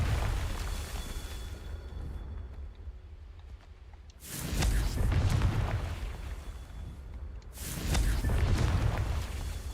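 Two Confringo spell explosions in the video game Hogwarts Legacy burst out a few seconds apart, each a loud, rumbling blast that fades out over a continuous low background of game sound.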